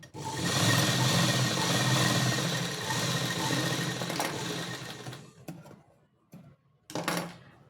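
A sewing machine runs continuously for about five seconds, stitching two layers of cut cloth laid one on top of the other, then stops, followed by a couple of short whirring bursts, all close up with no talk.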